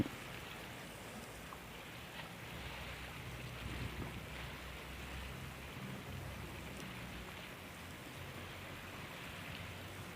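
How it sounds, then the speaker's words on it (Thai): Steady wash of sea waves rolling in on the coast of Chanthaburi, Thailand, a constant soft rushing roar heard from a distance, fairly quiet, with no voices. "มีคลื่น"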